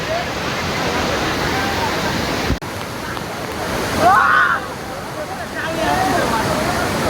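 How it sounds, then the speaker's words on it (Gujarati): Heavy water roars steadily in the rain at Jatashankar Mahadev temple in Junagadh, a loud, continuous rush close by, with a brief knock and a short voice rising over it midway. "ફૂલ પાણી આવે જેમ વરસાદ વધે એમ પાણી આવે"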